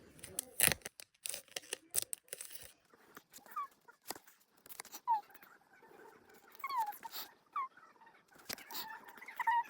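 A fan-merch package is torn open by hand during a home unboxing, with crinkly ripping and rustling of packaging in irregular close bursts, plus some thin squeaky tones.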